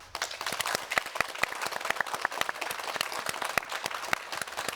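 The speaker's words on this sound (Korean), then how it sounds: "오늘 이렇게 박수 주시는 건 연습도 안 했는데 자연스럽게" Studio audience at a Ulsan MBC televised special interview with the mayor breaking into steady applause, dense overlapping claps with sharp individual hand strikes standing out, close and fairly loud with no talk.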